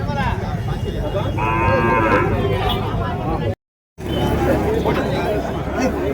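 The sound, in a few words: cattle at a native cattle market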